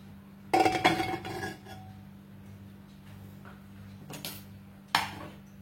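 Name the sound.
opening the lid of a pressure cooker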